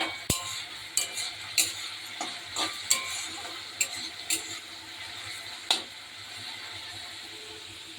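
Potatoes fry in a pan with a continuous low sizzle while a utensil stirs them, tapping and scraping the pan in scattered clinks, close and fairly quiet.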